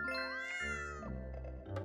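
A cat meows once, a drawn-out rising and falling call close to the microphone, followed by faint clinking and tinkling sounds in a quiet room.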